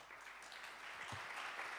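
A brief, faint patch of audience applause at an international gathering, a dense, even clatter of many hands heard from a distance.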